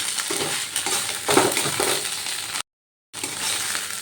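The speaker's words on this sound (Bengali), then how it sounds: "এইভাবে নাড়াচাড়া করে যেতে হবে বাঁধাকপির ভর্তা" Cabbage bhorta is stirred in a hot pan, a continuous close sizzle with scraping and stirring strokes, briefly cutting to silence before resuming.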